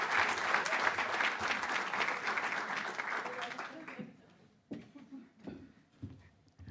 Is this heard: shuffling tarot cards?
no